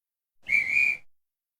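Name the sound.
whistle blowing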